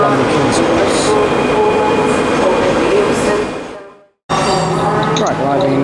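A train departs Edinburgh Waverley station bound for London King's Cross on the East Coast Main Line, a loud, steady rumble of rolling stock that fades out near the end before a new burst of sound cuts in.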